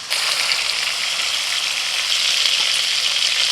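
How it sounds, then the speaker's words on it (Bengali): Shrimp fry in hot oil in a pan, giving a loud, steady, close sizzle that holds without a break. "30 সেকেন্ড মতো চিংড়ি মাছটা ভেজে নিয়েছি। তেলের মধ্যে দেওয়ার পরে দেখুন কালারটা চেঞ্জ হয়ে গেছে, একটু নাড়াচাড়া করে তুলে নিচ্ছি।"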